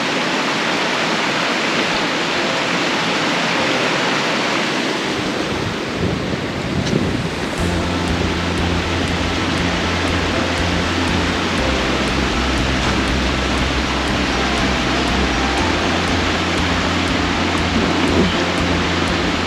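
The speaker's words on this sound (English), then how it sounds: "because of how the water's flowing" Loud, constant rushing of creek water near an old stone spring house in the Tank Creek nature preserve, a dense broadband roar with a low rumble entering midway, close to the microphone and free of talk.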